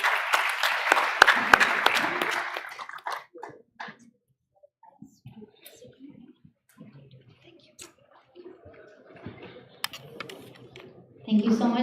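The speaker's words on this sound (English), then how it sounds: "Please give her a big round of applause." An audience at a Hussain Day event held in a courtyard gives a burst of applause that fades after a few seconds, followed by quieter scattered sounds and faint talk.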